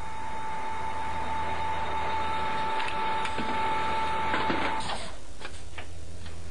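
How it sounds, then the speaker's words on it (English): Numerically controlled capstan and turret lathes machining in a workshop give a steady, loud mechanical drone with a constant whine, occasional clicks and a shift in tone near the end, with no voices. "These lathes are used in a variety of industries, and the programs are easily changed to suit new batches of components."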